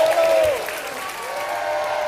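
A live audience at an outdoor show in Port Talbot applauds and cheers, a dense, steady wash of clapping and crowd noise, with a voice carrying over it at the start.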